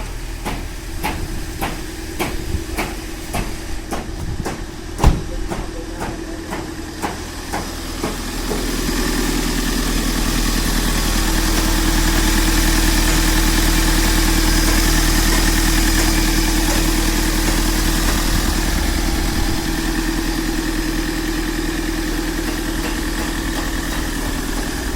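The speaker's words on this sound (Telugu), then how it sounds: "ఇంజన్ కూడా చూడండి ఎంత రేసింగ్లో ఉంది," A 2014 Mahindra XUV500 engine, fault code for the accelerator pedal, ticking over at idle with a low steady hum, then revving up into a louder sustained drone that holds high and even for the rest of the stretch.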